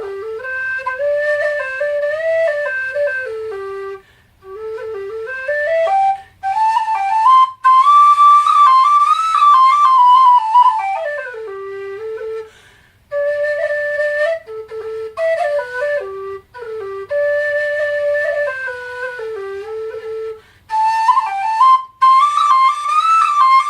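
A Carboni tin whistle in G plays a quick, ornamented melody, clear and loud with bright sustained notes broken by short pauses.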